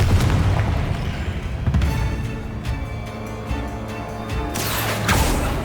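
A Confringo fire spell bursts in Hogwarts Legacy, booming blasts with crashing impacts over steady game ambience, the loudest burst at the start and another swelling near the end.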